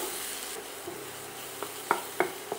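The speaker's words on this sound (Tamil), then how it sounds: "வெங்காயம் லேசாக வதங்கட்டும்." A soft, steady sizzle of onions frying in a pan, broken by a few sharp scraping clicks of a spoon stirring near the end.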